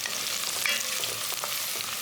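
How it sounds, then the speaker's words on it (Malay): Onion and garlic sautéing in hot oil, a constant bright crackling sizzle with small pops and a brief stir, close and alone without talk. "Tumiskan sehingga bawang tu layu."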